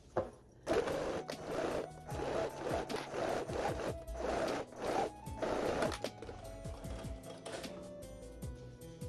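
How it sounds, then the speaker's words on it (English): A sewing machine stitches along the seam of a sling bag in several bursts of fast mechanical whirring with brief pauses, fairly close, then quieter handling toward the end. "We're gonna sew along this point."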